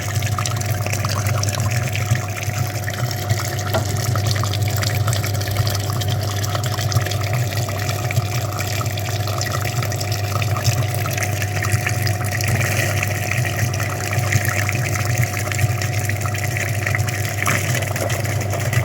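Water pumped steadily through the clogged heater radiator of a Renault Kangoo during flushing, a continuous loud rushing and humming drone that holds unchanged throughout, with no talk.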